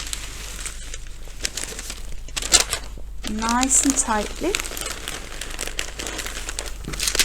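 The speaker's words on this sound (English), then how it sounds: "just wrap those roses in some brown paper" Roses wrapped in crinkling brown paper at a wholesale nursery, with rustling and crackling paper handling running throughout, close by, under and between a person's speech.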